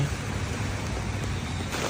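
Dense, constant rush of heavy rain, a steady roaring hiss with a low rumble underneath, no voices.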